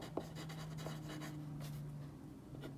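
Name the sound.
writing on a chart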